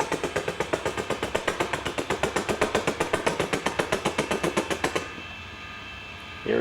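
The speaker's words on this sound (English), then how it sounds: "Up on our chopper again" A helicopter chops over a model railway layout, its rotor pulsing in a fast, steady rhythm for about five seconds before cutting out to near quiet.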